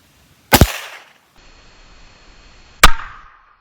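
Two loud, sharp rifle shots fired at a bulletproof gift-wrapped box, spaced about two seconds apart, each with a brief echoing tail and faint quiet between them.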